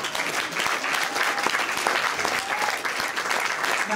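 An audience claps loudly and continuously, dense steady applause filling the room at the close of a talk-show style literary salon evening.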